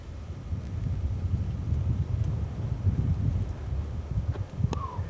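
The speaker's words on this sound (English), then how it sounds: "Hear the wind?" Wind sweeping across a rocky cliff overlook in Minnewaska Park, a steady low rumble and buffeting that stays loud and close throughout, with a brief faint whistle near the end.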